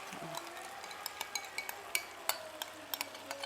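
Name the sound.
stirring chicken meat in pan for barbecue chicken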